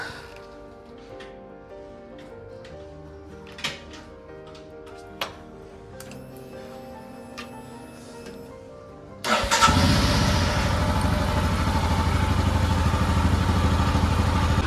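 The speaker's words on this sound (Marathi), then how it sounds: "आपली गाडी आणि गाडीला आता कोल्ड स्टार्ट देऊया" A motorcycle's cold start: a few faint clicks and ticks, then the engine catches about two-thirds of the way through and settles into a loud, steady idle, close to the listener.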